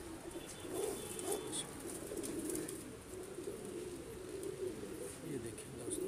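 Breeder pigeons coo in soft, low, repeated murmurs at close range, with faint chirps and light rustling around them.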